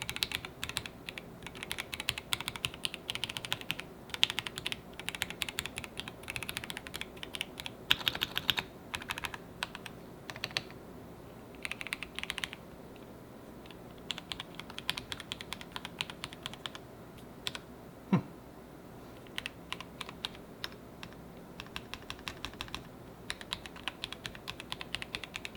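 Fast typing on a used Inland Mk Pro V3 wireless mechanical keyboard, close-up clattering keystrokes in rapid bursts with short pauses, quiet overall and without talk.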